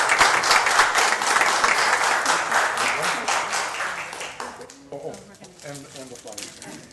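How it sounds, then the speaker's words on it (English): Applause breaks out at a city council meeting as a plaque is presented, dense clapping from a room full of people that thins and fades out toward the end, with a few voices emerging as it dies down. "So again, big round of applause as we present the plaque."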